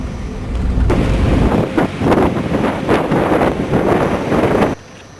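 A vintage Mercedes collector car, about 27 years old, fires up and runs outdoors: a loud, broad, throbbing engine roar with a rough pulsing rhythm that continues steadily for about four seconds before cutting off abruptly.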